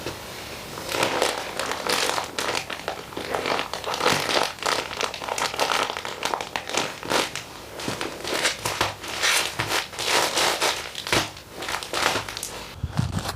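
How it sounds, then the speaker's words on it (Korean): Items being packed into zip-lock plastic bags for emergency cold-weather storage: steady crinkling and crumpling of thin plastic, with bursts of rustling and small crackles running continuously throughout, close and moderately loud. "이렇게 지퍼백 같은 밀봉 비닐봉지에 따로따로 넣어둘 겁니다"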